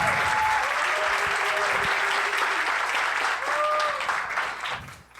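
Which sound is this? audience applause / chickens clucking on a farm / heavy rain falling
audience applause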